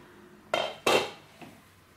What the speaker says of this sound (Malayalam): ഇനി നമുക്കിതൊന്ന് തുറന്ന് നോക്കാം.